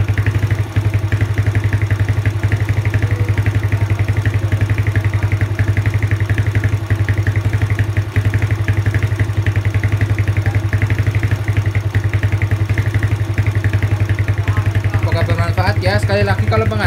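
A Yamaha Jupiter Z motorcycle engine idles steadily after valve adjustment, a close, even, low putter that holds a constant rhythm for the whole stretch, with a brief rattling burst near the end.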